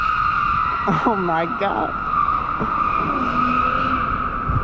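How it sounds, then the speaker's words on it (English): A Nissan 350Z doing burnouts gives a loud, continuous tire squeal with a steady high whine, and a voice briefly exclaims over it partway through. "Just disregard the burnouts."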